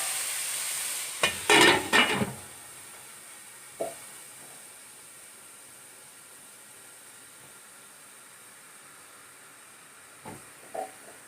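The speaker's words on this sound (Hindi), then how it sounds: "ये फ्राई हो गए। अब हम इन्हें निकाल रहे हैं साइड पे।" Vegetables fry in a pan with a steady faint sizzle, broken by a few sharp stirring scrapes near the start and brief clatters later, with no voices.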